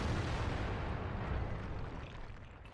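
Heavy booming tank gunfire and explosions in World of Tanks, a T-54 and an E-75 heavy tank in battle, rolling low rumbles that fill the short stretch and slowly fade.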